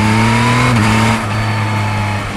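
A loud 2024 Yamaha MT-09 motorcycle engine drones steadily with a sharp shift in pitch partway through, revving up close, then settling into a lower hum.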